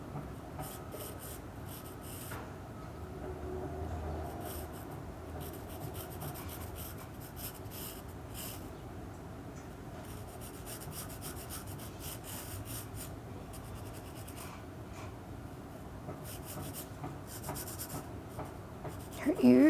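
Pencil drawing a person on paper, with continuous close scratching and rubbing strokes in irregular bursts, steady and fairly faint, with no talk over it.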